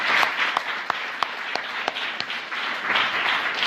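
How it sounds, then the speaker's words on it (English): A crowd applauds Brother Andre after his opening remarks: dense, continuous clapping from a room of listeners, with a few sharper individual claps standing out, fairly loud and with no speech. "Let's give Brother Andre a round of applause for his opening remarks."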